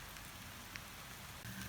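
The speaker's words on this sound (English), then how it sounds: "while it rains on me." Steady rain falling outdoors in a garden with trellis wire and conduit posts, a constant faint hiss of drops across the whole stretch, no voices.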